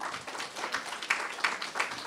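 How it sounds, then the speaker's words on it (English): A modest audience claps at a community gathering, scattered individual hand claps making an uneven patter at moderate volume, with a few sharper claps standing out and no talking. "So I think we can give ourselves a round of applause too."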